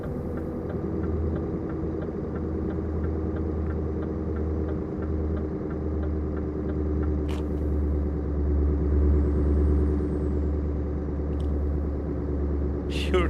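Truck engine in Euro Truck Simulator 2 with a sound mod, a steady low droning rumble running close and continuous throughout, with faint higher mechanical whine on top and no pauses.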